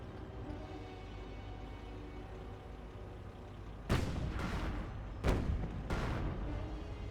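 Artillery and gunfire in the real-time strategy game Company of Heroes: a constant battlefield rumble broken by several sharp, loud blasts, the strongest near the end, with no talking.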